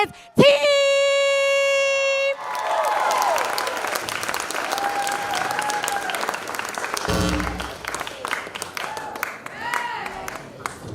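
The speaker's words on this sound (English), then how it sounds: "put a round of applause for East Harlem Scholars Academy High School" An audience at an anniversary event cheers and claps for a high school ensemble and dance team, opening with a loud sustained tone, then lively applause mixed with whoops, shouts and voices.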